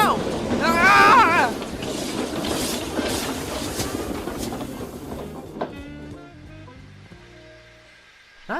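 In the Trainz video game, a locomotive's wheels slip on icy rails, giving a rumbling, clattering run with a brief high squeal near the start. A voice calls out over it before the sound thins and fades.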